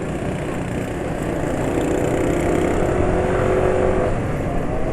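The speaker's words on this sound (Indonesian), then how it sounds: "dan suara mesin kasar" A car engine running roughly while driving, a continuous coarse, uneven drone that swells slightly in the middle and stays loud and close throughout.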